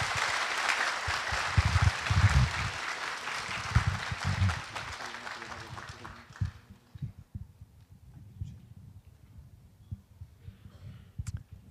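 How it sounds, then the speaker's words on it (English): Audience applause welcomes a guest monk speaker at the 30th anniversary celebration of the City of Ten Thousand Buddhas: steady clapping for about six seconds, then fading into scattered low thumps and room hum. "So could we have a round of applause to welcome our guest Ajahn Amaro, Speaker Dharma."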